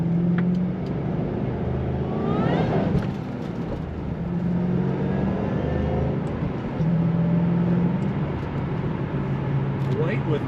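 A white 2007 Ford Mustang Shelby GT500 with blue stripes drives along a road, its steady engine drone rising and easing with acceleration beneath someone talking.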